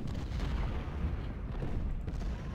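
Artillery fire in a Civil War strategy game at the Battle of Seven Pines, heard as a continuous low rumble of distant cannon booms and crackling gunfire, steady and moderately loud with no talk.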